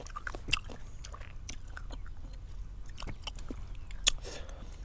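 Crisp bites into fresh green mango, picked straight from the tree, followed by close, quiet crunching and chewing with a few sharper snaps and no voices.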